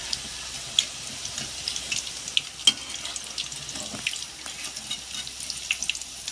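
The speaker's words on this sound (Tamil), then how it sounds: "போதும், இது நல்லா ஃப்ரை ஆகட்டுங்க." Bitter gourd chilli 65 frying in a pan, a steady close hiss and crackle of hot oil with scattered sharp pops, no voices.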